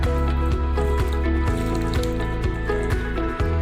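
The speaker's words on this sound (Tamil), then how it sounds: "மிக்ஸ் பண்ணிடுங்க." Wet squishing and squelching as pieces of fish are mixed by hand with maida flour, egg white and salt for an Indo-Chinese chilli fish marinade. The soft mixing sounds repeat steadily and close up, with no talk.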